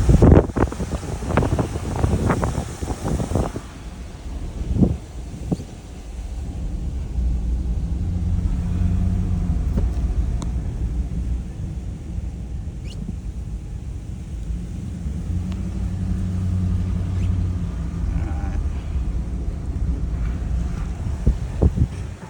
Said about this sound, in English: And it's starting to get pretty windy.